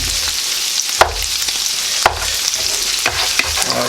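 Chicken fried rice cooking with butter on a griddle, a loud continuous sizzle with sharp spatula scrapes and taps recurring about once a second.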